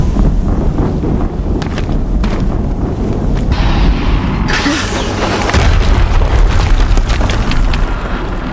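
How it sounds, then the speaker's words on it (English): Explosions in the video game Horizon Zero Dawn, a continuous, loud rumbling boom with dense low-end roar and crackling debris that swells midway and stays heavy throughout. "Another explosion."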